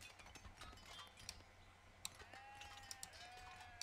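Sheep bleat faintly in the real-time strategy game 0 A.D., a couple of wavering calls in the second half over soft ambient game sound, with scattered small clicks and ticks.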